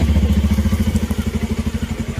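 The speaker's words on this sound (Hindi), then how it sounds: "ये बाइक भी आ रहा है हमारे साथ" A motorcycle engine runs close and loud, its exhaust pulsing in a fast, even throb throughout with no voices.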